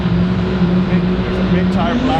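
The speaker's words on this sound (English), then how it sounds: "diesel Chevelle. Pretty sure he's got a Duramax in it." A diesel Chevelle fitted with a Duramax engine at Coos Bay Speedway during the Redwood Rally 2025, giving off a steady, droning idle rumble beneath people talking nearby.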